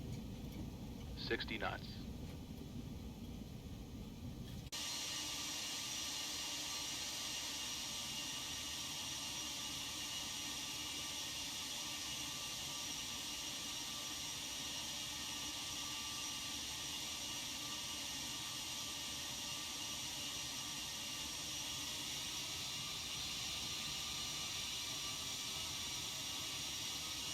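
A Felis 747-200's jet engines roar in reverse thrust during a simulated landing in the X-Plane 12 flight simulator. After a short quieter stretch with a brief callout, the roar swells and holds steady and loud to the end.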